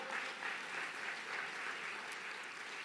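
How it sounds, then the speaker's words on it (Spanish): Church congregation clapping for the Lord during a Spanish-language sermon, a steady wash of many hands applauding together at a fair distance, filling the whole moment with no voice over it. "Dale un fuerte aplauso al Señor."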